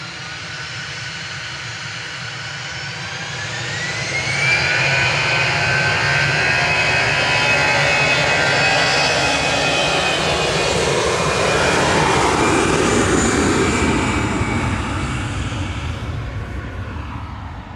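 An Aer Lingus passenger jet arrives at Manchester Airport, its engine roar swelling loud and close after a few seconds, a rising whine sweeping through as it passes, then slowly easing off.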